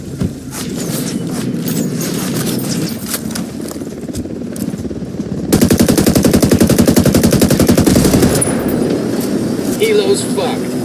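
Automatic machine gun fire during a cartel firefight in Ghost Recon Wildlands, sporadic shots at first, then a dense rapid burst, loud and close, with voices talking over the gunfire.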